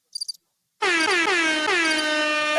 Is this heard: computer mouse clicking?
no